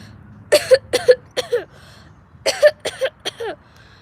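A voice imitates a cough, two bursts of forced coughing and throat-clearing sounds, short harsh vocal bursts close to the microphone with a pause between groups.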